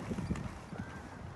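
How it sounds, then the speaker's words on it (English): Two racehorses working on a galloping track at the Newmarket training grounds, their hoofbeats muffled and somewhat distant beneath a steady wash of outdoor noise. "You can see 2 horses doing a piece of work there in front of us."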